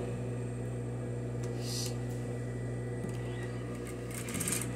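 A sewing machine stitches the waistband of a pleated school skirt, its motor giving a steady low hum with a light mechanical rattle. The hum runs close and continuous, and brief clicks and rustles of fabric sound over it.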